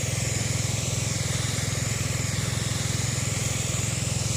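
A small motorized machine engine runs low on gas, its rapid steady chugging putters close by with a rough, uneven sputter throughout.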